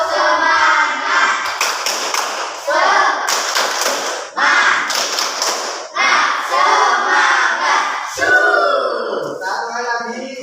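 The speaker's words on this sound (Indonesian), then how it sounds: "Tepuk semangat" Junior high class performing a rhythmic group clapping chant, several bursts of unison claps mixed with shouted, chanting voices, loud and close in a classroom.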